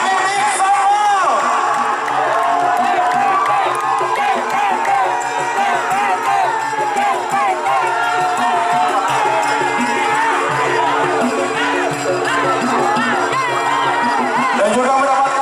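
A large crowd at a Madura bull-racing (kerapan sapi) ceremony cheers, whoops and claps for the Jetmatic Sampang team, with loud babble and talk over the noise throughout.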